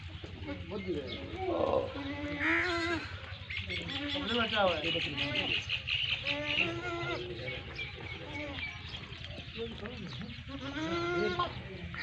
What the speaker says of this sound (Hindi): एक बकरी है